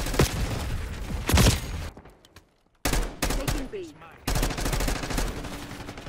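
Rapid bursts of XM4 rifle fire in Call of Duty: Black Ops 6, loud and close, broken by a brief near-silent gap before further volleys with a faint voice underneath.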